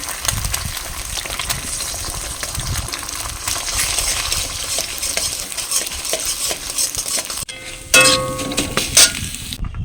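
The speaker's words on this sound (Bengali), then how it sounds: "গরম কড়ায় সরষের তেল দিয়ে দেবো। ডিম ফাটিয়ে ডিমগুলো আগে ভেজে নেব।" Eggs frying in mustard oil in a hot pan give a steady, close sizzle through most of the stretch, with some stirring clatter. Near the end the sound drops out briefly, then returns with a brighter burst of hissing.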